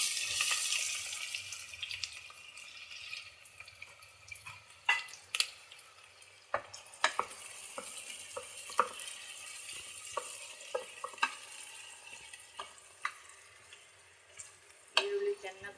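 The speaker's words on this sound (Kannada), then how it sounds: "ಇವಾಗ ಈರುಳ್ಳಿ ಹಾಕ್ತಾಯಿದ್ದೀನಿ" Onions dropped into hot ghee and oil for palak rice, a soft sizzling hiss with scattered clicks and taps of a spoon in the pan, faint and close, loudest at the start.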